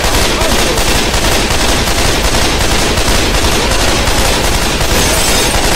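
Sustained automatic gunfire in Left 4 Dead 2 pours into a tank, rapid shots overlapping in a dense, loud, unbroken barrage that never pauses.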